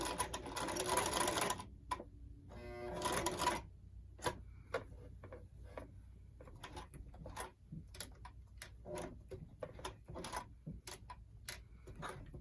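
An old, worn lock-stitch sewing machine runs backwards to lock a stitch, with a loud whirring burst at first, then a run of sharp, rhythmic clicks and ticks as it is worked by hand.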